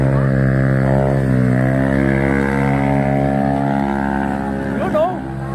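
Loud, heavily loaded motorcycles with modified engines roar past on a road as a sustained, harmonic-rich engine drone that holds steady and then shifts in pitch near the end, with no talk over it.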